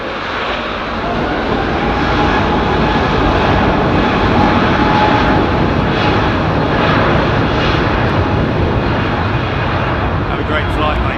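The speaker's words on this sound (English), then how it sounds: "The A380 touching down." An Airbus A380 touches down at London Heathrow, a loud, steady broadband roar of jet engines close by throughout, with people talking over it.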